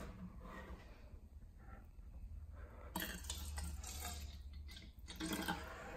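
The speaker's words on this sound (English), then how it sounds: "Let's pour some water in." Purified bottled drinking water is poured into a cup, a continuous splashing trickle that grows louder partway through, close by, with no talking over it.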